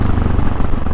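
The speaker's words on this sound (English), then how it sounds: "The exhaust sounds funny when I'm off the throttle, and plus it's just loud as fuck." Husqvarna 701 Supermoto with an open airbox and an exhaust lacking its baffle, giving a loud, continuous low rumble up close for a short moment.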